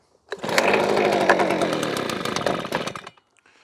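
A Titan leaf blower's small two-stroke engine, previously failing to run, fires up after a pull start and buzzes loudly for a few seconds before cutting off abruptly.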